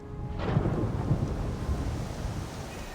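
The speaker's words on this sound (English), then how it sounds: "Is there a storm going?" A thunderstorm in Horizon Forbidden West rumbles with a deep, rolling peal of thunder over a steady wash of rain, the rumble swelling and then slowly fading.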